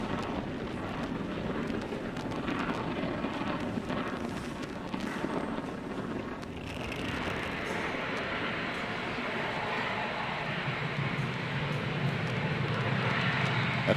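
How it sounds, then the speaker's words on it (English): Falcon 9 rocket lifting off from Space Launch Complex 40 on the ESA Hera mission, a continuous broad roar that stays loud and steady throughout, brightening and growing harsher partway through, with no voices. "Falcon 9 has successfully lifted off from Slick 40."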